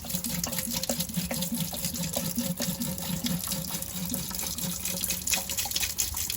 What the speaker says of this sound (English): Pour some down the drain.